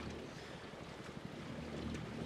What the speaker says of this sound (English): the centreboard is still vibrating